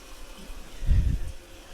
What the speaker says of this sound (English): And it looks like the tank is filling.